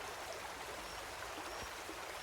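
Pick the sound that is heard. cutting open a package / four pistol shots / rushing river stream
rushing river stream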